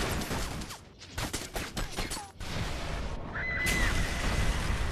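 Gunfire in the Resident Evil: Revelations 2 video game, a rapid series of loud sharp shots and bursts in the first half, followed by a sustained noisy game-ambience rumble.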